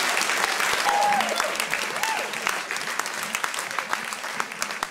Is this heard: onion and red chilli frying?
no